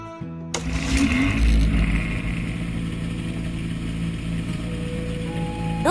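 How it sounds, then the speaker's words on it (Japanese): A propeller plane engine in a video game cranks and catches at once, then runs as a loud, steady drone with a low, rhythmic throb, alone with no talking. "プロペラの回転具合もエンジン音もいい感じだと思います。"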